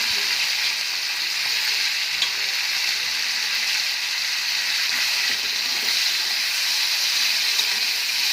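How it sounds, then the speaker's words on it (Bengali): Prawns fry in hot mustard oil in a pan, a steady, bright, hissing sizzle that holds evenly throughout with small crackling pops, close and fairly loud, with no voices. "সর্ষের তেলটা গরম হয়ে গেলে চিংড়ি মাছগুলো এক এক করে সব দিয়ে দেবো।"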